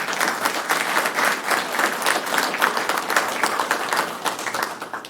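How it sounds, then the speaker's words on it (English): An audience at a Citrus Heights city council meeting breaks into steady applause, a dense wash of many hands clapping throughout, fairly loud and continuous with no talking. "Give yourselves a round of applause on that one."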